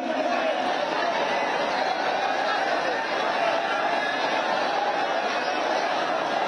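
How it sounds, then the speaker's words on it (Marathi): A large crowd at a public political gathering in Maharashtra, where Chief Minister Eknath Shinde ends Manoj Jarange Patil's fast, fills the air with a dense, constant hubbub of chatter and murmurs. "या ठिकाणी गर्दी खूप आहे."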